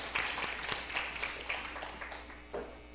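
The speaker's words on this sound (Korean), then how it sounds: "90여선교에게 큰 박수 부탁드리겠습니다." Brief, faint audience applause at a church gathering, a light scattered patter of clapping hands heard at a distance with no one speaking.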